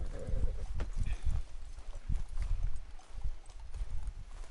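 Horse hooves clip-clop in a steady trotting rhythm in the video game Red Dead Redemption 2, moderately close, with faint background noise.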